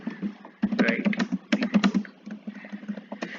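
Fingers type code on a computer keyboard in quick irregular bursts of clicking keys, heard close under a faint low hum.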